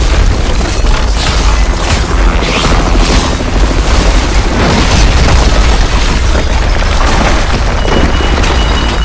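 Rocket explosion in Call of Duty MW3: a loud, sustained booming roar that fills the whole stretch without letting up, with no speech over it.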